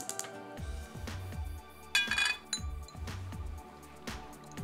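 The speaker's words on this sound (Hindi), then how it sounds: "उसके लिए मुझे चाहिए एक पैन।" A cooking pan and other metal kitchenware clink and clatter on a counter while a Bengali shukto is being prepared, with a bright ringing knock near the middle among softer repeated bumps and thuds close by.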